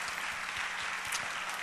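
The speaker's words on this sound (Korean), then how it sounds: "우리 캄보디아에서 오신 분이 박수 한번 하겠습니다" A church congregation claps briefly for a visitor from Cambodia, a faint, short burst of scattered hand claps at low volume.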